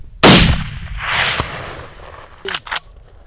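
An Armsan A612 rifle fires one loud, close shot at an eland bull during an African hunt, followed by a rolling echo and a pair of sharp mechanical clacks.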